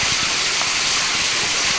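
Water pouring down a waterfall, heard from behind it at a remote rocky temple site where water seeps through solid rock; a steady, dense rushing hiss, close and continuous for the whole moment.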